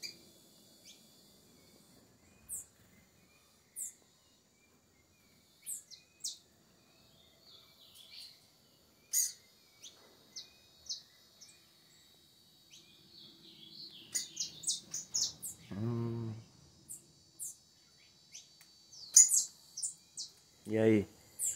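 Canaries chirp near their nest, giving short, bright tweets scattered across the clip that grow busier and louder toward the end, alongside a faint insect-like hum and brief voices.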